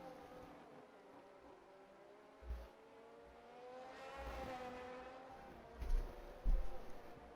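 McLaren race car engine in a sim racing game at Portimao: a steady, moderately loud high-pitched whine that rises in pitch as the car accelerates, with a few low thumps and some quiet background noise.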